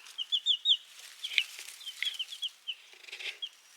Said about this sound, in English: Yay, chickens.